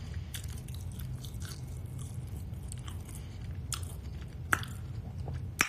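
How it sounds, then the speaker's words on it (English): Close, quiet chewing of fries topped with Parmesan, with moist smacking, soft crunches and occasional sharp clicks repeating steadily over a low background hum. "I'm smacking hard right now because y'all keep talking about ASMR"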